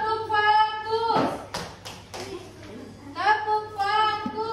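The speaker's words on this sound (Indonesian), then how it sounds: "Tepuk fokus." Children perform a rhythmic focus clap, a burst of sharp hand claps and taps sounding close in a classroom, set between stretches of children chanting together.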